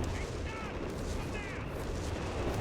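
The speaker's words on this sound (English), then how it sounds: "That creeping barrage." A creeping artillery barrage from Company of Heroes 3 rumbles as dense, continuous booms and explosions, with voices heard faintly over the battle din.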